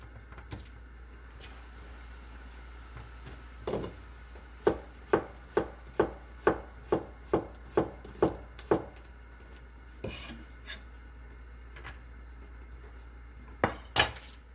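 A knife slices vegetables on a cutting board for soft tofu stew, a quick even series of about ten crisp chops in a row, with a few scattered cuts before and after, close and fairly quiet.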